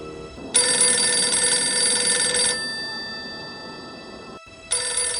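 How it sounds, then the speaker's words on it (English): A telephone in a street phone box rings with a bright electronic trill in two-second bursts separated by a pause, fairly loud and near, with no voices. "A ringing phone."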